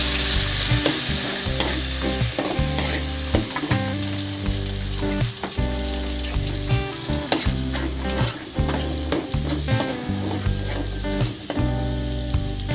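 Ground spice paste fries and is stirred in a pan for crab soup, giving a continuous close sizzle with scraping stirs and tonal sounds running throughout.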